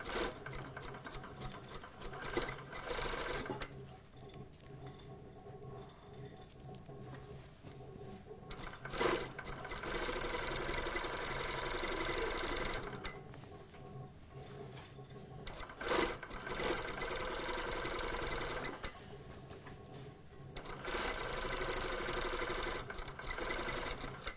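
A sewing machine runs in several long stitching bursts while sewing a panel skirt toile, separated by short pauses, steady and close with no talking.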